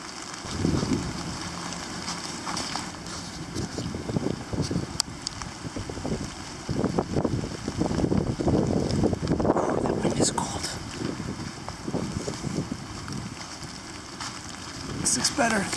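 Strong gusty wind blows through woods with hemlock trees, roaring and buffeting against the microphone in uneven surges, with a person talking now and then over it.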